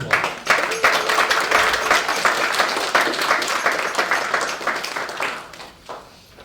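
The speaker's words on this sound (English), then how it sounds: "So let's give them a big round of applause." A crowd at a community meeting applauding the staff: dense, sustained clapping from many hands, loud and close, tapering off near the end.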